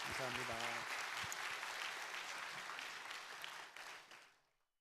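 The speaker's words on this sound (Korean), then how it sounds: "다시 한번 큰 박수 부탁드리겠습니다." A church congregation at a Sunday service gives another round of applause, beginning as a voice speaks briefly, then a steady wash of clapping that fades away toward the end.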